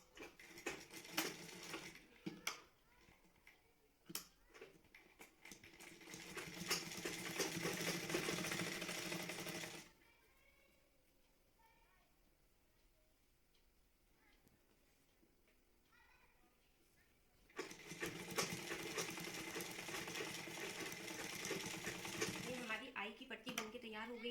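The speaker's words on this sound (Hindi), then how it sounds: "ये जो सिलाई है इसके ऊपर से हम एक मशीन चला देंगे" A sewing machine stitches a blouse seam in two long runs of close, steady whirring clatter, separated by a quiet stretch of several seconds, with voices heard around the stitching.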